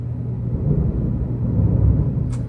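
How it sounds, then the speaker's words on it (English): Low, steady thunder rumbles outside during a giant storm, a faint continuous roll with a slight swell midway and no voices present. "There's a giant storm outside."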